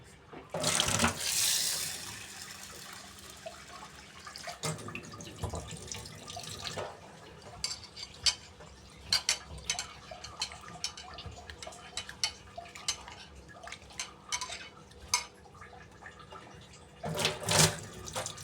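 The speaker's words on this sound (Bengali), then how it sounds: "আমি বেসিনের মধ্যে ডালগুলো ধোয়ার জন্য নিয়ে আসছি, এবার ধুয়ে নেব।" Tap water running into a kitchen sink as lentils (dal) are washed, with bursts of splashing and gushing, dripping and sloshing between, and faint voices in the background.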